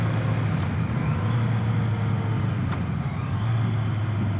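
A Yamaha Maxim 700 four-cylinder cruiser motorcycle engine drones steadily and loudly at speed, a constant low hum with wind roar and no voices.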